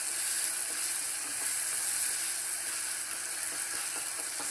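Mangalorean egg roast masala, seasoned with garam masala and roasted cumin powder, stirred in a hot pan: a steady, bright sizzle runs throughout with faint scraping of the spoon underneath.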